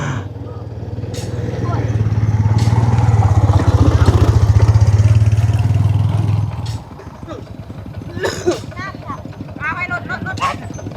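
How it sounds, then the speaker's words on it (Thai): A farm tractor approaches with a loud, chugging low engine rumble that builds for several seconds, then drops away, leaving scattered clatter and people talking nearby. "รถไถมาแล้วพี่น้องเอ้ย"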